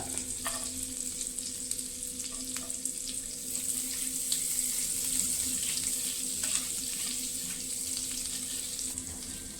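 Cardamom pods, cloves and a piece of cinnamon fry in melted butter, giving a steady close sizzle with light stirring scrapes and occasional clicks, no voices.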